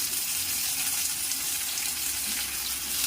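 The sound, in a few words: tomatoes added to frying potatoes in pan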